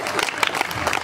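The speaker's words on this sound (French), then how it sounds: "applaudissez" An audience at a poetry and comedy show claps in a brief, dense burst of applause, fairly close and loud, with voices mixed in.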